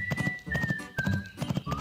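Rhythmic clip-clopping hooves beat steadily on a hard surface while a horse lets out a thin, drawn-out whinny above them, close and moderately loud, in an animated farm scene.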